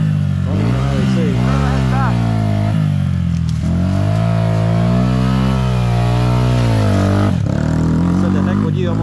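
A mini quad racer engine revs loudly and close during a lap, with a steady, rising and falling mechanical drone that holds throughout.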